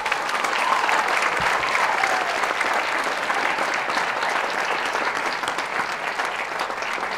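An audience at the Bangkok Prep secondary school sports awards gives the student captains a full, steady round of clapping that lasts throughout without pause.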